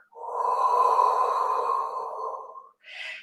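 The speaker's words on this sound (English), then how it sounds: "And breathing out." A long, steady exhale during a Pilates movement, breathed out close and fairly loud for over two seconds, followed by a brief separate breath; no talk over it.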